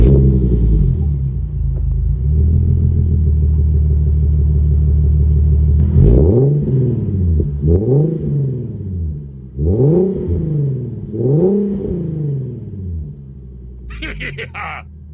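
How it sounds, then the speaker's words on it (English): An Infiniti G37 with a new exhaust idles with a deep, loud rumble, then is revved five times in quick, rising-and-falling pulls, ending with a short hiss. "New exhaust on the Q."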